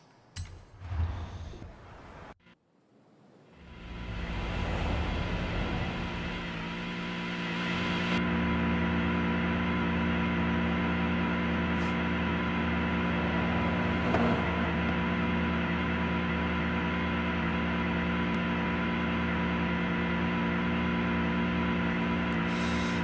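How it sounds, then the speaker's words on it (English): A loud, steady idle from an Aston Martin Valkyrie V12 in a video game, sitting around 1200 RPM, a constant low drone after a brief startup. "Introducing the Aston Martin Valkyrie, which I'm pretty sure is a V12. And this is idle."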